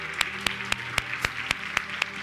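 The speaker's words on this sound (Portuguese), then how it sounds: "Aproveita e dá uma salva de palmas pela vida dela." A church congregation claps in steady unison for Pastor Rita, about four even beats per second, loud and close, with no speech.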